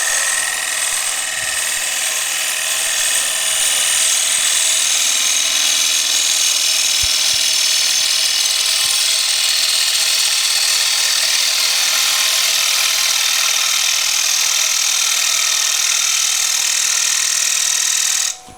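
A wood lathe spins a wooden table lamp as a 1/4 inch gouge cuts a curve, producing a continuous hissing, scraping shear that stays loud and steady for many seconds with no talk.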